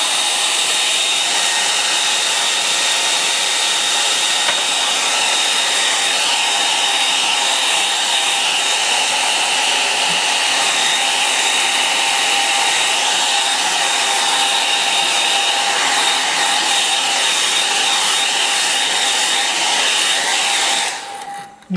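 A hair dryer blows steadily and loudly over a watercolour painting of Perranporth, a continuous close whooshing roar that holds unbroken for about twenty seconds before cutting off abruptly at the end.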